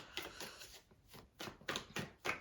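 Tarot cards being shuffled during a Scorpio reading, heard as a quiet series of soft papery riffles in short bursts, about seven of them, at close range with no talk.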